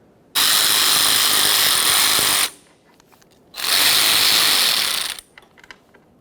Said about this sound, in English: I'll be using an 8mm to remove all 3 of the pieces of mounting hardware